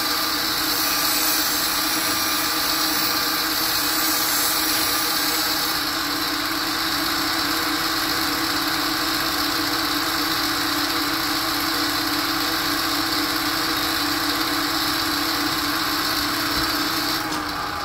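A chipped plane iron is ground on a grinding wheel, producing a continuous loud whirring drone with a gritty steady texture that holds without a break.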